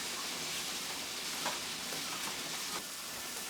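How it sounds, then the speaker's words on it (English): Pasta water boils over on a hot stovetop, liquid sizzling and hissing steadily with a few brief crackling pops. "and it's boiling over"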